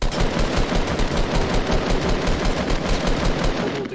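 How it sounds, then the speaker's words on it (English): Rapid automatic gunfire in the Fortnite Battle Royale video game, a dense, loud, continuous burst of shots lasting several seconds without a break. "Start shooting now."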